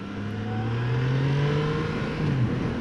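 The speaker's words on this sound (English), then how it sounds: "you can rev it up and ride at the top of the gears with the RPMs up a little higher" Triumph Tiger 660 motorcycle engine revving, a loud steady drone whose pitch climbs gradually through the revs and then drops near the end, with no one talking.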